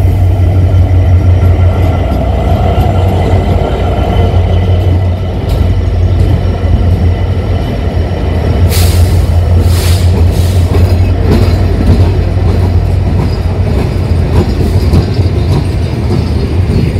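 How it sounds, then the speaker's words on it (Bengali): A passenger train in Bangladesh, heard from on board near Rajshahi, rumbles loudly and continuously on its rails with a deep steady drone, faint rhythmic clatter and brief higher squeals, no voices. "আমার ট্রেনে ফার্স্ট চলা হবে আজকে"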